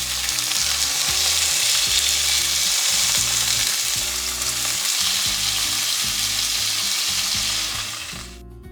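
Seasoned chicken pieces fry in a skillet, giving a loud, dense, continuous sizzle with crackling that holds steady for several seconds before fading at the end.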